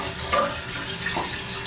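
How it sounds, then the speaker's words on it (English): A toilet flushes weakly after a lever replacement, a short, steady rush of water that does not build to a full flush. "but I don't think that was a full flush."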